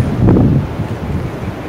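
Steady wind buffeting at a Bali beach, with a low broadband rush from sea waves beneath and a stronger gust early on, continuous and close to the microphone.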